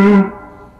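A single distorted electric guitar note from a blues lick rings out loud and close, then decays quickly into a fading tail.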